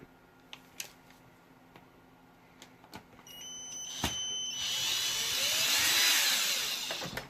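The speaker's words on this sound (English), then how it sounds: "So now I gotta get my drill" Scattered clicks and taps, then a power drill whirs up to a sustained high-pitched spin, running loud and close for several seconds, removing bolts from a Redcat nitro RC buggy.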